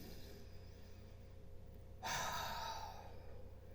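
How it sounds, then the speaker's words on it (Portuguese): A single deep breath taken during a guided relaxation exercise, a soft breathy inhale-exhale rising suddenly out of quiet room noise and fading away. "faz uma respiração, ó"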